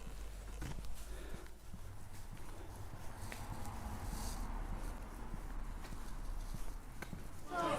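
A horse walks away at a steady clip-clop on a hard surface, the hoofbeats soft and somewhat distant against a constant low outdoor rumble, with no talk.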